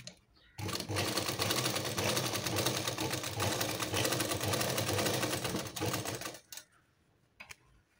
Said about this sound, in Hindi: इस पर सभी पूरे राउंड में हम ऐसे ही खींच के सिलाई लगा लेंगे